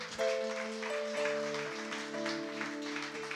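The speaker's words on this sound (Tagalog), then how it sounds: "Palakpakan natin si Lord na malakas." Church congregation applauding loudly during a Sunday live worship service, broad steady clapping washing under sustained keyboard or organ chords throughout.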